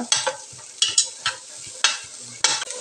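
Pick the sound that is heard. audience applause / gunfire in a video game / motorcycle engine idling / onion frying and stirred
onion frying and stirred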